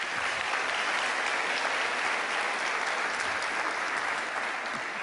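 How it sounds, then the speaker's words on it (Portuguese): A church audience applauds steadily during an evening service, a dense, continuous wash of many hands clapping that stays even and fairly loud throughout, with no talking. "Uma salva de palmas para eles."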